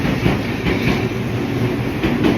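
A commuter train pulls into Takadanobaba station in Tokyo with a loud, close, continuous rumble and rhythmic rattling of cars and wheels, heard alone without talk.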